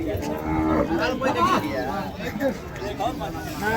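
Plough bulls from Tiruppattur district low at the Kundarapalli cattle market, deep drawn-out moos rising over a busy crowd babble and nearby talking.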